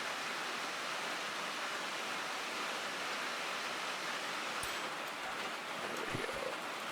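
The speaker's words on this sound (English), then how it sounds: "Now let's fill our water tank again." Water gushing into a steam locomotive's tank in Derail Valley, a dense steady hiss of pouring flow with a few brief clanks near the end.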